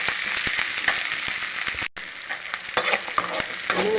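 Masala sautéing in a pan for a sprouted urad dal kuzhambu, giving a steady close frying sizzle with stirring scrapes, briefly cut off midway before the sizzle resumes.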